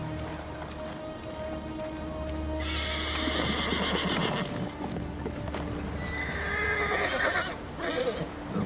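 A horse neighs and whinnies loudly in Ghost of Tsushima, with clip-clop hoofbeats and steady game ambience beneath, the calls rising twice over several seconds.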